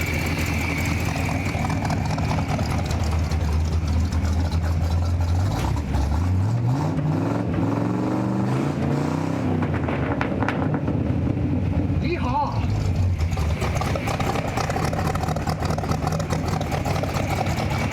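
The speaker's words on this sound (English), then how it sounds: "Motor sounds good." 1958 Chevrolet Apache Fleetside truck engine idling with a low, steady rumble and some fluctuation, close and loud, with people talking over it.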